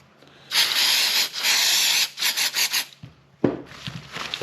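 Paper towel rubbed briskly across a Honda Odyssey FL350 engine intake, a sustained rasping wipe followed by several short strokes, close and fairly loud.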